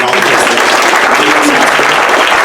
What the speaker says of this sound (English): Can we clap it up for them?